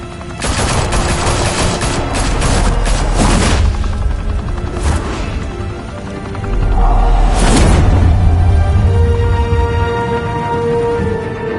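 Gunfire in Batman: The Telltale Series: several bursts of rapid, loud shots and booming impacts, with whooshing noise between volleys, go on for about ten seconds.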